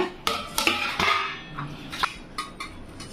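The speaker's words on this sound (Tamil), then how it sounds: "காளான் இந்த மாதிரி நல்லா பொடிசாக கட் பண்ணிக்கணுங்க" Mushrooms being finely chopped with a knife on a board, a series of sharp irregular taps and clinks close by, moderately loud, with no talking.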